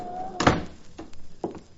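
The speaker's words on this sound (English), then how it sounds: "And suddenly the door opened and..." A door opens in an old-time radio drama set in a saloon: a loud wooden thunk followed by two softer knocks or footfalls, heard alone and fairly close.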